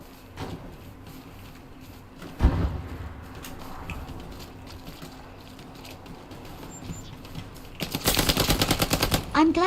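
A Sten gun fires in Hell Let Loose, starting with scattered quiet clicks and a single sharp crack, then a loud rapid automatic burst near the end.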